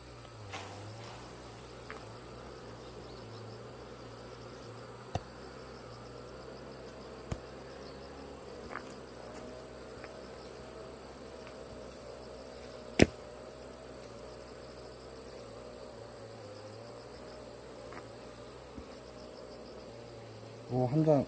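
Soft, steady buzzing of many bees at a hive, a continuous low drone broken by a few sharp clicks and taps.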